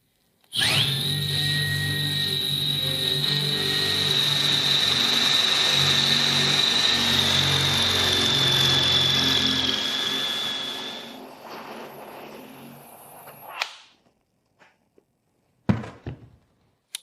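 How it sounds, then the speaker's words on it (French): A cordless drill in normal drill mode runs continuously for about thirteen seconds, driving a drill bit with a steady high whine and a dense rumble, then cuts off, followed by a couple of faint clunks. "Fonction de perceuse normale, mettons un chronomètre et voyons combien de temps cela prend pour insérer ce forêt"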